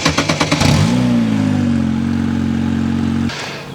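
An F4 single-seater race car engine is started: a quick run of starter cranking pulses catches into a loud, close idle that holds steady for a couple of seconds before dropping off abruptly.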